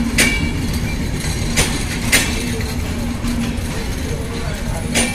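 A heavily loaded train passes at Parbatipur Junction, producing a loud continuous low rumble with periodic metallic clanks of the wheels and wagons on the rails.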